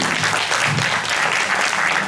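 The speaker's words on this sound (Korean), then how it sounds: "큰 박수 부탁드리겠습니다" An audience at a cooperative's general assembly gives a big round of applause, dense even clapping filling the room at a loud, steady level for the whole stretch.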